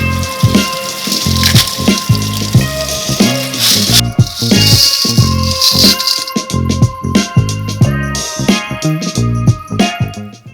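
Old rusty nails salvaged from an 1800s home rattle and clink as they are rinsed, a loud, dense metallic jangle with repeated shakes and splashing water throughout.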